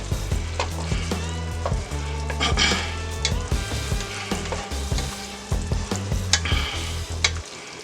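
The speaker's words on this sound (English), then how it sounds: "Alright, so I got my butter almost melted down." Butter melting in a pan for Alfredo sauce, with a continuous close sizzle and frying crackle punctuated by stirring scrapes, no one speaking.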